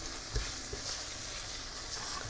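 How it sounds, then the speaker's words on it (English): Bacon slowly rendering its fat in a pot for beef chili, a steady close sizzle and crackle with a couple of faint pops and no talking. "now that our bacon is slowly rendering"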